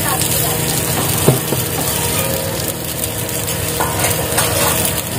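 Mackerel (bangda) fries in a pan after being flipped, giving a steady, dense sizzle throughout with a brief utensil knock early on.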